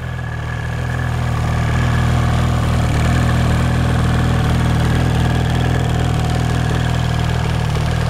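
A custom-built trail riding snowmobile engine runs steadily and loudly up close, a droning, vibrating hum with strong low rumble and no pauses.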